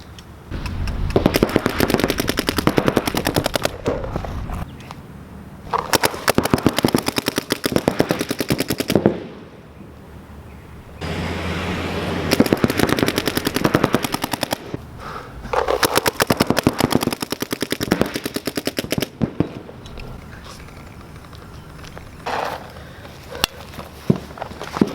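A gun fires in long rapid bursts during a practice drill, loud and close, with brief pauses between strings of shots and no talking.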